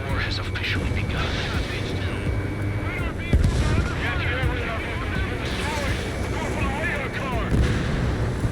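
Anti-aircraft fire in the Ace Combat 7 video game, a steady rumbling barrage of bursts and booms mixed with aircraft and radio chatter voices over the combat.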